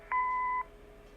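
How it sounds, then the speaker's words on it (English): A short electronic answering machine beep in the video game Kathy Rain, a clean steady two-tone sound lasting about half a second, alone. "Leave a message after the beep."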